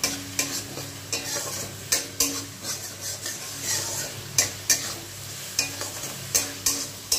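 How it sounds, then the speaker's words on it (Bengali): Spice paste being stir-fried in oil for a home-style curry, with repeated sharp scrapes and clinks of a spatula against the pan over a low, steady sizzle, close and unvoiced. "ভালো করে কষিয়ে নিতে হবে, তেল বেরিয়ে গেলেই মশলা থেকে"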